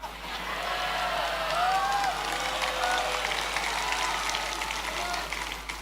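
Applause from a large audience at an Indonesian sermon, a steady broad wash of clapping running the full length, fairly distant, with faint voices underneath.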